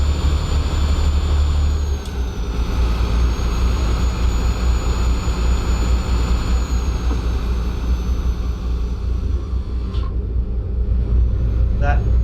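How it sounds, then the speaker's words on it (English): A heavy truck engine with a whistling turbo drones in Euro Truck Simulator 2, a constant low rumble and rising whine heard with a window open, alone and loud for the whole stretch. "That is a really good, strong truck sound."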